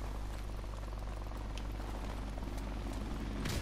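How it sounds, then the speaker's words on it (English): A friendly helicopter in Call of Duty: Modern Warfare Remastered gives a steady, low, droning rotor hum that runs the whole time at moderate loudness, with a brief burst of noise at the very end. "Friendly helicopter on the way."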